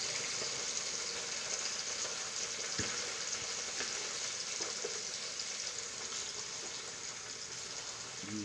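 Water spinach (kangkong) for adobong kangkong sizzles in a pan in a soft, continuous fry with light stirring knocks, moderately faint and close, no speech.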